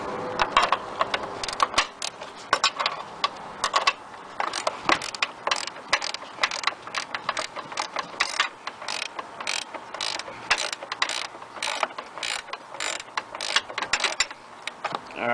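Rapid ratcheting clicks from a 13 mm wrench backing off nuts on the front wheel bearing of a BMW E60 5 Series, in dense bursts repeating steadily and close up throughout with no talk.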